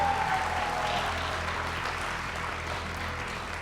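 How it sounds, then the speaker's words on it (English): A crowd applauds graduates at a graduation ceremony, steady broad clapping that holds at an even level throughout, full and slightly distant as if filling a hall. "Let's have another big round of applause for all of our grads."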